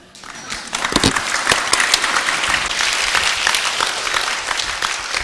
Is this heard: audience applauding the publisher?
yes